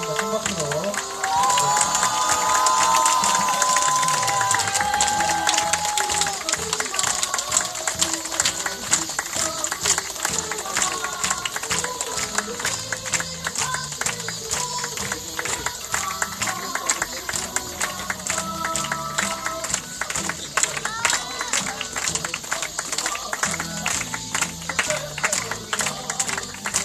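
Crowd at an outdoor protest rally in Soseong-ri cheers and claps loudly and steadily throughout, with shouts and a voice over a PA rising above the broad, dense applause.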